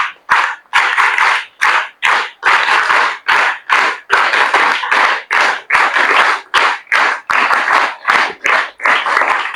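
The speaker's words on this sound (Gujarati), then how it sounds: "આપણે જોરદાર તાળીઓથી એમના સન્માનને વધાવીએ" A school audience at Purusharth Vidhyaniketan gives loud, sustained applause, with dense clapping that surges and dips in a steady rhythm for several seconds.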